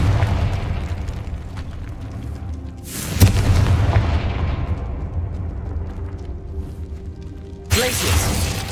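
Confringo blasting spell in Hogwarts Legacy, a loud booming burst that rolls off into a long fading rumble, followed by a second bright blast near the end over steady game ambience.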